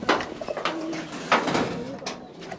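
Pigeons cooing close by in soft, repeated throaty calls, with faint voices and background noise mixed in.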